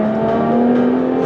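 2016 car with 380 horsepower switched into dynamic mode, the engine holding a steady revving drone with a clear tonal hum, close and loud, for a brief moment.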